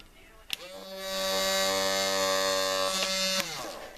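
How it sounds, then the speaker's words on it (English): A small high-pitched electric micro drill whirs up, holds a steady buzzing tone for a couple of seconds, then winds down, close and moderately loud. "and then my micro drill"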